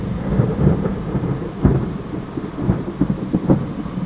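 Low rumbling thunder rolls through a Florida thunderstorm, a continuous deep grumble with several stronger pulses and no voices over it.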